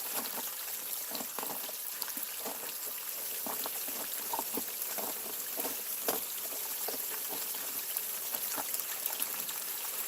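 Water washes gravel down a gold prospecting hopper, making a continuous rushing, trickling wash with scattered small pebble rattles, steady and moderately close, with no speech.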